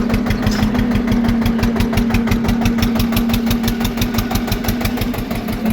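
A tractor engine runs steadily up close, a low rhythmic chugging with a fast, even knock that holds throughout with no voices.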